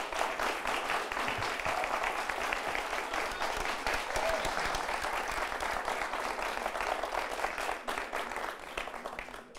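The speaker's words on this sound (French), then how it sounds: "je voudrais demander au public d'applaudir à tout rompre ces 8 champions" A studio audience claps loudly and steadily for eight champions at a game-show final, a dense wall of applause that holds at full strength throughout.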